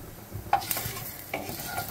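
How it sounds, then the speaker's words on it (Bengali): Oil sizzles and crackles steadily as bay leaves are dropped into a hot pan with cumin seeds, with a couple of sharper bursts of spitting. "ওর মধ্যে দিয়ে দেব দুটো তেজপাতা"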